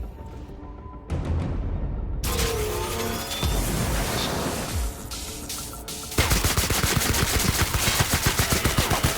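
Gunfire in The Outer Worlds video game: bursts of shots, then a long rapid machine-gun stream of evenly spaced cracks in the final seconds, loud and close with no talk over it.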